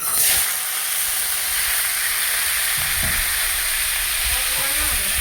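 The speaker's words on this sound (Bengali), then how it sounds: "তেলের মধ্যে চাপাং করে দেওয়া হলো বরবটি আর আলুগুলো।" Long beans and potatoes hit hot oil with a loud burst, then a dense, continuous sizzle and hiss fills the space, with a few low thumps and scrapes of the pan underneath.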